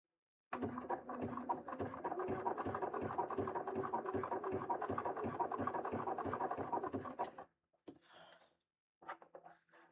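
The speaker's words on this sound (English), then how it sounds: "this sewing machine does such a better job than my other sewing machine" A sewing machine runs steadily for several seconds with a rapid mechanical stitching rhythm, then stops, followed by a few faint clicks.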